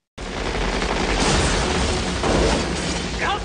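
A gunshot sound effect bursts in abruptly and continues as a loud, dense rattle of rapid fire, like a sustained fusillade, with no voices over it.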